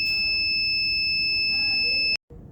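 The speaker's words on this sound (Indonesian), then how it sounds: "Dapat dilihat pada buzzer yang akan aktif setiap kali membaca kondisi tertentu." A buzzer on an IoT room temperature and humidity monitoring system sounds a loud, steady electronic tone, then cuts off abruptly near the end, leaving quieter background noise.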